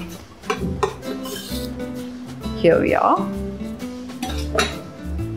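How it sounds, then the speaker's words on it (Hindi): Chopped broccoli is tipped into a pan, with clinks and scrapes of utensils against the pan while someone talks throughout. "ये ब्रोकली हमने चॉप कर दी अब मैं इसमें डाल रही हूँ"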